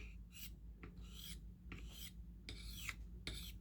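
Short scraping strokes of a stone drawn across a recurve knife blade clamped in a KME sharpener to take off the burr, soft and close in several separate passes with no voices.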